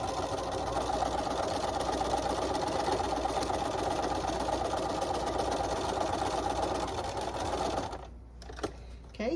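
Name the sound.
sewing machine stitching across a trick or treat bag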